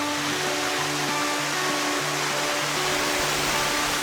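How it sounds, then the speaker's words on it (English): An Icelandic waterfall near the airport and capital roars as a steady, full rush of falling water, constant and close with no other sounds. "This waterfall is the closest to the airport and the capital."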